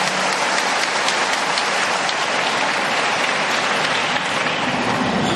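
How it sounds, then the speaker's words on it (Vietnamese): A church congregation gives a long, loud round of applause for the archbishop, dense continuous clapping filling the space evenly without a break. "Xin cộng đoàn chúng ta là một tràng vỗ tay thật lớn để mừng Đức Tổng."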